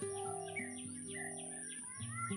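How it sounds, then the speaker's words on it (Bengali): Red-whiskered bulbul chicks in a nest give short, thin chirps in quick succession, faint and close against a quiet steady background. "এত বড় করে খাওয়ারের জন্য কিচকিচ কিচকিচ করে"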